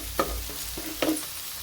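Pomfret fish pieces fry in hot cooking oil with a quiet, steady sizzle, broken by two distinct knocks of a utensil against the pan.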